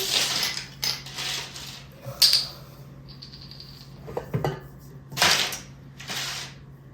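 A baking pan coated with flour is picked up and shaken to spread pumpkin roll batter, giving several short metallic clatters and scrapes with quiet gaps between them, close by.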